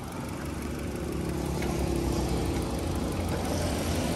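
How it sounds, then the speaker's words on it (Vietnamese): Steady idle of a 2017 Suzuki Ertiga's 1.4-litre engine, a constant low hum with even mechanical drone heard close up and alone, no talking. "Rồi giật cabo cho anh em mình nghe phần tiếng máy nha"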